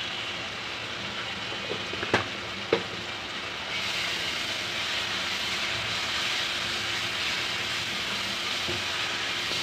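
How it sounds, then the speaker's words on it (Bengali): Cumin powder and spices frying in a pan for beef liver bhuna make a steady, loud sizzle that swells after a few brief clinks and continues unbroken to the end. "মশলাটাকে ভালোভাবে কষিয়ে নেব।"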